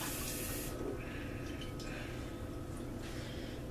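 Water from a tap runs into a chili sauce container as meatballs are prepared in a slow cooker, a steady close hissing pour that fills the short stretch with no talk.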